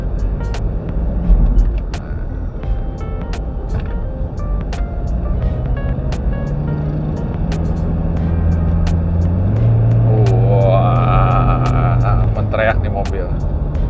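A 2020 Toyota Fortuner VRZ TRD diesel with Eco Mode switched off revs loud and close, its engine drone climbing steadily in pitch as it accelerates, while a person talks over it.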